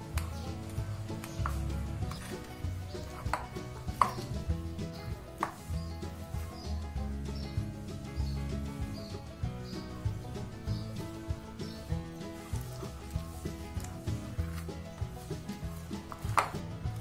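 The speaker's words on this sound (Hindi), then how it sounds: "अब हम इसको मिक्स करते हैं।" A yogurt kebab mixture with chopped coriander and salt is squished and kneaded by hand in a bowl, giving soft repeated wet squelches and occasional light knocks against the bowl, close and steady, no talking.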